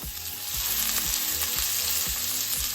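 Filet steak searing in a hot oiled pan for surf and turf, a loud, steady, close sizzle with crackling spatters, continuous throughout with a faint musical tone in the background.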